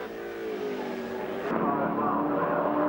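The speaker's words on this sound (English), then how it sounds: "On the racetrack, at the moment, Bobby Morris, fastest man at Bathurst this week in the Channel 7 Breville entry" Touring car circling the Bathurst racetrack during practice week, its engine droning steadily and growing louder midway as it draws nearer.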